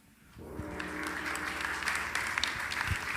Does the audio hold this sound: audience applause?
yes